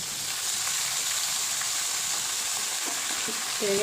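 Garlic, onion, black cumin and green chili fry in hot oil, giving a steady, close sizzle that continues throughout, with a few faint clinks and stirring sounds near the end.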